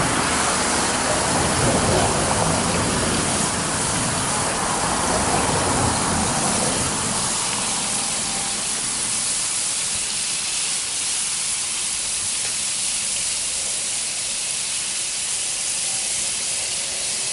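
Squirrel meat frying in a pan, a strong sizzling hiss that is loud at first and then settles to a softer, steady crackle.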